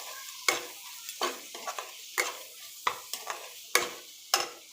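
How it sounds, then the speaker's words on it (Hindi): Masala stirred and fried in a pan for a soya badi curry, with tomato in the mix: repeated sharp scraping strokes of the spoon against the pan at an uneven rhythm over a soft, steady sizzle, close and clear. "एबे आम मसला को भाजी नवा।"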